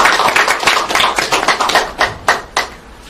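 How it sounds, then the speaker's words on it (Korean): Audience applause at a lecture event, a burst of many hands clapping that thins out into a few separate claps toward the end. "큰 박수 부탁드리겠습니다."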